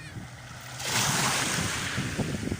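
Ocean waves break and wash onto the shore, starting with a low rumble and turning into a loud, close rush of surf and spray mixed with wind buffeting the microphone.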